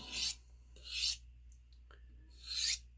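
Knife blade drawn across a ceramic honing rod, three separate raspy strokes with short pauses between them, close up and clear with no voices.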